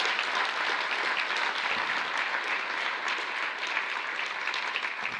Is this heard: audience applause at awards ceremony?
yes